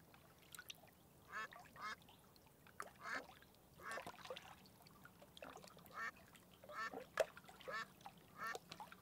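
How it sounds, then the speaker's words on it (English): Several ducks quack in irregular bursts and clusters, moderately loud and close, with faint trickling water and splashes underneath. "I hear ducks quacking and water too!"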